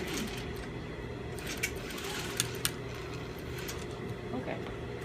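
A sewing machine backstitches at the end of a neckline seam with iron-on interfacing, a continuous close whirring run with a few sharp clicks partway through.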